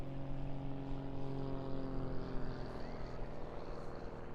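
An RAF display aircraft performs aerobatic loops and turns at a seaside airshow, its propeller engine droning steadily with strong tonal hum, continuous and moderately loud.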